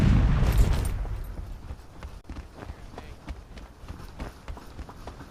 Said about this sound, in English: Why does it sound like we got fucking suction cups on the bottom of our feet whenever we run through the snow?